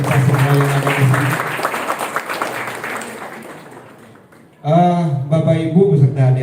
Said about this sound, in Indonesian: mari kita berikan tepuk tangan untuk kita semua yang ada di sini